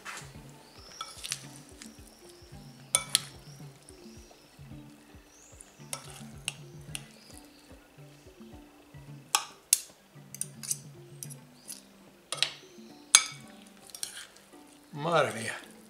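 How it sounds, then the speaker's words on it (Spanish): Food sizzles in a clay cazuela (a Spanish clay pot) with a steady low crackle, broken by sharp clicks, taps and scraping stirs at irregular intervals, heard up close without talk. "aquí en esta cazuela de barro vamos a echar una racioncita"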